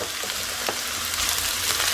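Curry leaves, onion and grated drumstick fry steadily in a pan, a continuous soft hiss with faint scraping from stirring throughout.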